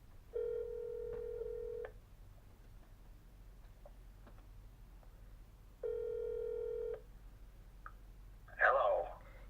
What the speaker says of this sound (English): we're going to go ahead and give him a call here